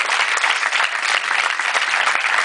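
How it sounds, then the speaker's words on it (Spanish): Dense, steady audience applause at a film premiere, many hands clapping loudly and continuously for the crew with no voices above it. "Por favor, un fuerte aplauso para toda esta gente que nos ha venido."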